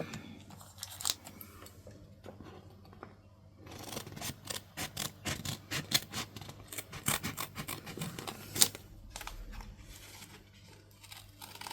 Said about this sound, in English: Cut them in half, and maybe this one.